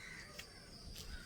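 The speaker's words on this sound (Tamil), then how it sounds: "காக்கா சவுண்டு கேட்குதா?" Black crows cawing outdoors, with a couple of brief, harsh calls standing out over faint, steady background noise. No other clear sound is present.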